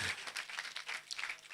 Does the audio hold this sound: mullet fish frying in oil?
no